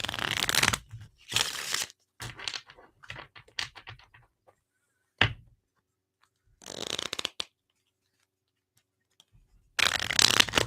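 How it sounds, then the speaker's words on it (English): Tarot cards are shuffled in several separate bursts of riffling and slapping, with quiet gaps between them and a louder flurry at the close. "Now that our fucking cards are shuffled up"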